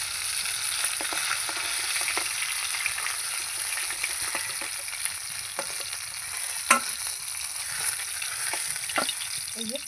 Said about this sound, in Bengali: এই যে আমি মাছটা ভালো করে ভেজে নিয়েছি